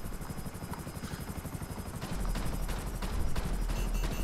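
A helicopter in the video game GTA 5 gives a loud, steady rotor chop throughout, with heavier low thumping setting in halfway and a few sharp gunfire-like bursts layered over it.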